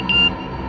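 A single phone message notification beep, a brief steady electronic tone sounding once against a quiet indoor background.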